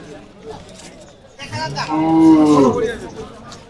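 A cow at a cattle market gives one long, loud, close moo, with people chattering in the background before and during it.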